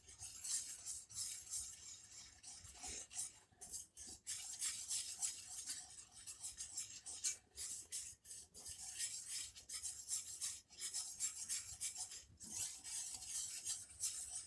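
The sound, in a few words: whisking a white gravy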